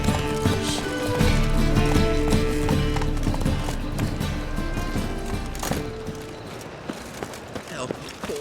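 A horse galloping in The Witcher 3 on Nintendo Switch: loud, rapid hoofbeats pounding over layered game music and ambience, with a brief whinny.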